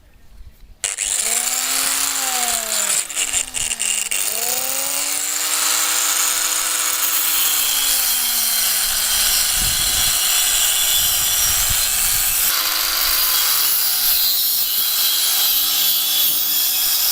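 A power saw cuts through steel box section for a home-made motorbike stand, a loud, sustained whining grind with rising and falling pitch as the blade bites, close up and continuous.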